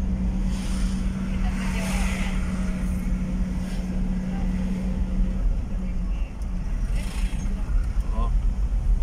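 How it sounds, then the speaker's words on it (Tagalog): Road traffic on Marcos Highway in Baguio, heard from inside an air-conditioned vehicle: a constant low engine and road rumble with a steady hum, while people talk over it. "Grabe yan ang traffic."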